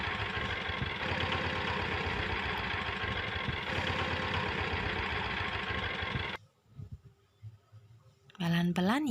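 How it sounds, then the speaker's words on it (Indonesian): A rice milling machine grinds paddy with a steady, loud mechanical drone and rattle for about six seconds before cutting off, leaving faint noise, then a voice speaks. "Padi digiling menggunakan mesin penggiling padi."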